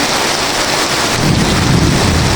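Heavy rain pours steadily in a fierce thunderstorm before Friday prayers, a loud, unbroken roar with low thunder rumbling in during the second half, with no voices.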